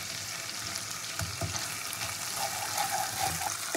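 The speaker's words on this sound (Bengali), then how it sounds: "তো দেবো আমি এবার কাঁচা লঙ্কা বাটা" Green chili paste hitting hot oil with garlic and ginger paste in a pan, a loud continuous sizzle and fry with faint stirring scrapes throughout.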